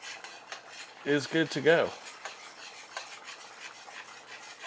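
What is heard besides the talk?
stirring bacon potato leek soup in a pot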